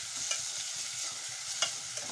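Spices tempering in hot oil for a fenugreek, onion and tomato dish give a continuous hissing sizzle close by, with a couple of brief clinks of stirring and no talking.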